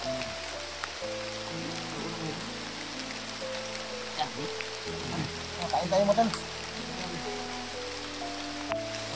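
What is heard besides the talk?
rain falling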